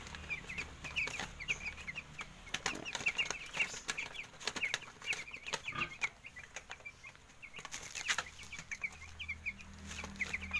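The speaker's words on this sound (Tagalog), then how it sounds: "ito po ulit yung aking barako" Rooster and hens clucking repeatedly on a small farm flock of about twenty birds, with steady close calls and brief wing flaps over outdoor background noise.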